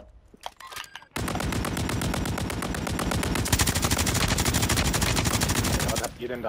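Long sustained bursts of rapid automatic gunfire from weapons in a video game, loud and close, rattling nonstop for about five seconds after a brief lead-in of scattered sounds, then cutting off abruptly.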